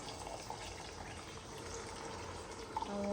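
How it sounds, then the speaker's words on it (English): Steady rushing of water pouring into a pot of egusi soup, a continuous broadband splash that holds level for a few seconds. "So next we're adding some water"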